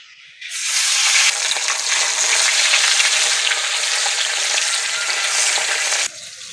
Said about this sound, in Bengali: তেল ভালোভাবে গরম হয়ে গেছে সামান্য নুন দিয়ে দিচ্ছি তেলে তাহলে মাছগুলো সরাতে লেগে যাবে না একে আর মাছগুলো দিয়ে দেবো